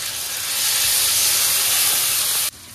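Half a tomato dropped into spiced masala frying in hot oil with Kashmiri chilli powder, giving a loud, steady sizzling hiss that holds for over two seconds and then cuts down sharply near the end.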